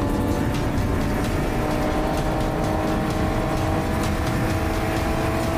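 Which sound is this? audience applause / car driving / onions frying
car driving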